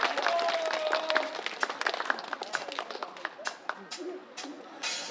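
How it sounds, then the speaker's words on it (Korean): An audience at a street busking performance in Jindo claps in scattered, uneven bursts, fairly faint and loose, while a voice carries on over the applause. "마지막까지 박수 많이 쳐주세요."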